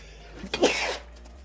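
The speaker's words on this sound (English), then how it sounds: "I got sneezes." A single sudden sneeze, close and fairly loud, with a quick intake before the burst and quiet surroundings.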